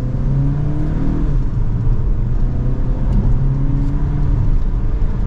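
A 2023 Volkswagen Tiguan 2.0 SEL R-Line turbo engine accelerates from second gear, heard from inside the cabin as a loud, steady low rumble and rising hum with road noise.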